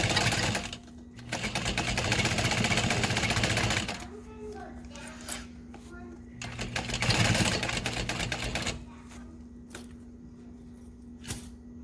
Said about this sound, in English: Well, I'll just sew over it when I get